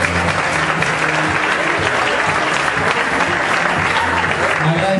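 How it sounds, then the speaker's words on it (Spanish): An audience at a contest in Punta del Este breaks into loud, sustained applause, a thick wash of clapping with a voice talking over it throughout. "Fuerte el aplauso para ellos."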